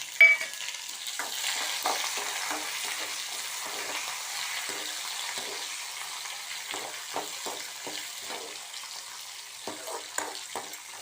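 Green chilies and curry leaves fry in oil with browned urad dal for instant coconut sevai. The sizzle is close and steady, with an initial burst as they go in and light stirring scrapes throughout, and nobody talks.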